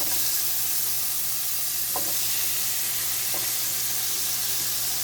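Leafy greens sizzle and get stirred in nearly rendered chicken fat in a pan, a steady close frying hiss with a couple of brief scraping stirs.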